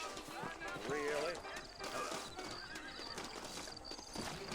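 Horses in the Red Dead Redemption video game neigh and whinny over clip-clopping hooves at close range, a busy, continuous mix with game speech and ambience underneath.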